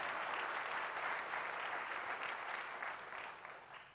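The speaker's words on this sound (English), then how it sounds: "If you wish to applaud, you can do so now." Conference audience applauding at an opening and welcome session, a dense steady clapping from a large crowd that holds for several seconds and then thins slightly toward the end.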